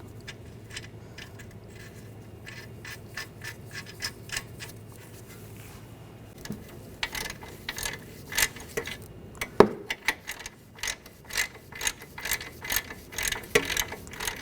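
Ratchet tightening a tie rod nut on the front knuckle of a 2013-2019 Ford Escape, fast bursts of crisp clicking pawl strokes, quiet at first then louder and more frequent, close by and alone.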